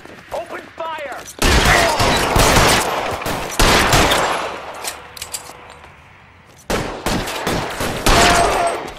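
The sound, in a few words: gunfire in video game L.A. Noire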